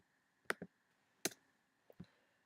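Computer mouse clicks while locking a layer in video editing software: three close, fairly sharp double clicks spaced about a second apart, with no voices.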